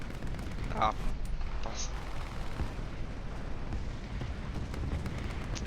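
Booming artillery strike explosions and gunfire crackle in a War Thunder tank battle, loud and rumbling, with a voice speaking briefly over the blasts.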